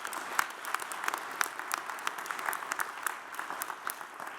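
An audience at a graduate school investiture ceremony claps briefly, a faint, scattered patter of hands heard from a distance.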